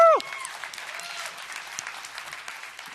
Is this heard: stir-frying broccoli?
no